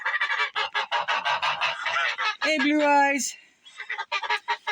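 Geese honk in a barnyard pen alongside ducks, a loud nasal honking call cutting in near the middle, while someone talks almost continuously around it.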